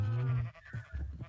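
Sheep bleat in a video game farm pen: a sustained, wavering cry up close, then shorter bleats follow, with faint voice-like sounds mixed in.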